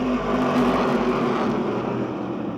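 Race cars at Motordrome Speedway roar wheel to wheel through turns one and two, a dense, steady mix of several engines at racing speed, loud and continuous with no voices.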